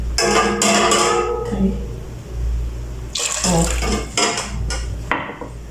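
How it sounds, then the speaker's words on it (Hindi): Hot water splashes and pours into a metal pot of lentils in two bursts, with clinks of cookware against the steady hum of a kitchen. "4 कप गर्म पानी के डाल दूँगी।"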